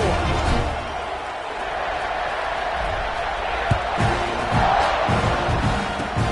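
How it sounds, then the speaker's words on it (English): Stadium crowd in the NCAA 26 college football video game buzzing after a score, a loud, continuous roar of many voices with a few thuds and swells, steady throughout. "this crowd is buzzing after that last score"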